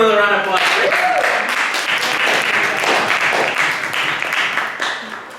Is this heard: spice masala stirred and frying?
no